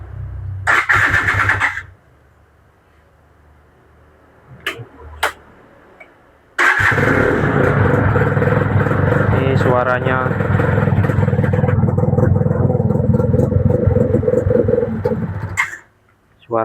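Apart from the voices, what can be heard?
motorcycle engine starting and running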